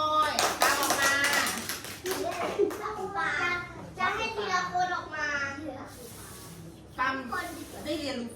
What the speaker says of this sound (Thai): ปรบมือให้ฟอ